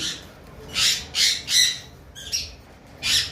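Loud, shrill cockatiel squawks repeat in short bursts, five or six sharp calls close by with brief pauses between them.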